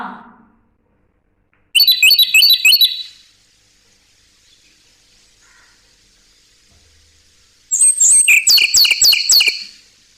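A singing bird sound effect gives two loud bursts of rapid, high chirping trills, each lasting about a second and a half, separated by near silence.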